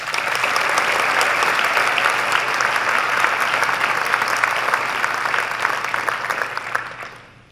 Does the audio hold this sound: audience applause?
yes